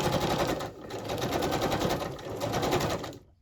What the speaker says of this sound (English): if you don't like the sewing machine, turn the volume down.